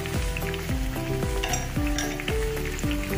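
Mixed vegetables for chop suey fry half-cooked in a hot pan, giving a steady, dense sizzle with stirring, while music with clear chords plays over it throughout.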